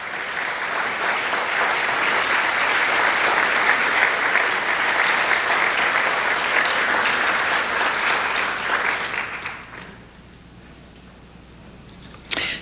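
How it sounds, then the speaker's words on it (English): An audience at a Yavapai County, Arizona panel event gives a loud, sustained round of applause for a team standing up, steady for about nine seconds before fading to room quiet. "Ben and Ethan, all of you stand up so everyone can give you a well-deserved round of applause."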